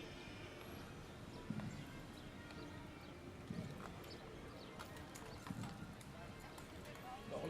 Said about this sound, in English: All the horses, buggies, you get a whole lot of it.